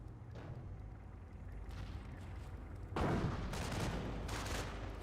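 Anti-tank gun fire in the World War II strategy game Company of Heroes, heard as a heavy boom around the midpoint followed by a dense rolling barrage of battle noise, loud and continuous with no talk.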